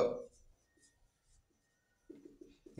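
Names being written by hand on paper, faint scratching strokes in quiet stretches with a voice talking at the start and end.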